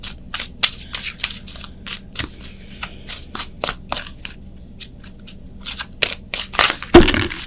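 Tarot cards are shuffled by hand in crisp, irregular riffling flicks, close and fairly loud, with brief quiet gaps and a louder shuffling burst near the end.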